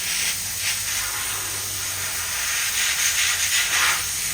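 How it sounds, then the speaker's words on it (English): A simple, inexpensive airbrush sprays in a steady, close hiss with faint fluctuations in airflow and no speech. "Just a simple airbrush and do some cool stuff."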